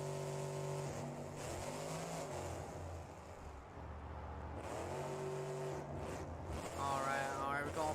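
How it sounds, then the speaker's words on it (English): A monster truck engine roars and revs at a freestyle stadium event, with loud rising and falling throttle bursts, a brief lull, then a renewed climb as the truck works the arena. "This truck is very loud."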